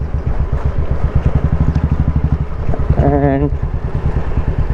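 Motorcycles setting off at dawn on a Sunday group ride to Parnera Hills, a steady loud engine drone with rhythmic pulsing, rising briefly in pitch as one revs, with a voice talking over it.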